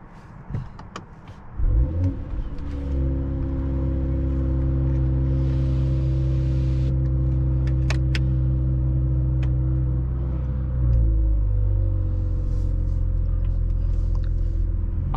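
A 2021 Mercedes-AMG GLE 53 Coupe in Sport Plus mode, its engine a loud, steady low rumble inside the cabin that swells briefly as the SUV pulls away and again near the end; no one speaks.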